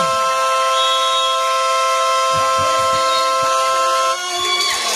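A loud, sustained electronic basketball game-end buzzer blares continuously with a steady harmonic tone, cutting off near the end amid arena crowd noise.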